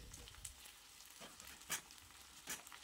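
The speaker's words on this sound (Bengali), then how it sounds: "চলো এগুলোকে হালকা আঁচে আস্তে আস্তে করে ভেজে নিতে হবে যাতে সিদ্ধ হয়ে যায়।" Green chilli, capsicum and onion frying in a pan for chilli chicken, a soft, steady low sizzle with a few brief scraping stirs, fairly quiet and close, with no talking.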